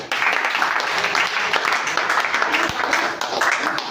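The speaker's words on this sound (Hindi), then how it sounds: "इनके लिए जोरदार ताली" Audience applause fills a gathering at a drug de-addiction centre, a steady dense wash of clapping held at an even, fairly loud level from start to finish.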